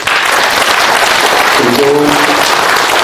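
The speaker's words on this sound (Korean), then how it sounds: "박수로 환영해 주십시오." Dense, loud audience applause fills a lecture hall as a former mayor is welcomed, continuous crowd clapping throughout with a brief voice rising over it.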